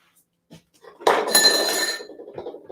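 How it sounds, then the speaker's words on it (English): Vitamix blender jug set down onto its base, a short hard clatter of plastic and glassy clinks followed by lighter rattling as it settles, fairly close with no talk. "So you just pop that onto your blender."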